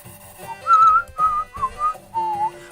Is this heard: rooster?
no